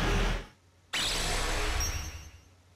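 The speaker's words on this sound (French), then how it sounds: "Encore ce doux bruit, le bruit des vagues" Ocean waves wash in a video game, a steady broadband rush that dips briefly into near silence, then surges back and gradually fades, with no one talking.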